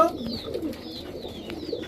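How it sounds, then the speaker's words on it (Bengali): Large pigeons coo in low, rolling bursts that repeat through the moment, close and fairly loud, with faint background noise and no speech. "এত বড় সাইজের কবুতর এটা"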